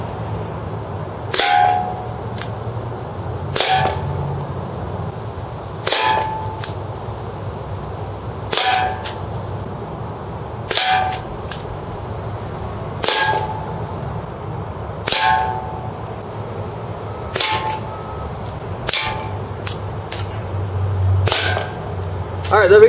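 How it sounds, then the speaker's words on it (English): A Marushin Derringer gas gun fires ten shots from about ten feet at a metal can, each a sharp crack with a tinny clang, spaced a couple of seconds apart over a low background hum. "10 shots into the can"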